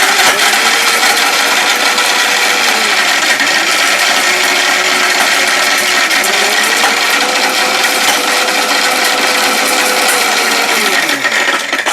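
An electric blender grinds chili at full power, a loud, steady motor whine with a churning rattle that rises and dips in pitch as the blades cut through the contents, running continuously throughout.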